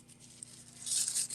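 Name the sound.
crumpling tissue paper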